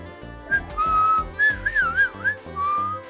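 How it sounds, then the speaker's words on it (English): A single person whistles a wavering, bending melody in short phrases, close and clear, with pauses between the notes and no talking. "I probably shouldn't whistle."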